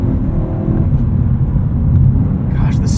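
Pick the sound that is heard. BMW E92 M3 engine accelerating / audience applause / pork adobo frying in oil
BMW E92 M3 engine accelerating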